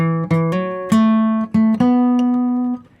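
A single guitar plays one phrase of a song: a few plucked notes sliding upward, then a long sustained note that rings out and fades, clear and close with no other sound.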